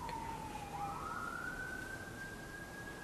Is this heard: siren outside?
yes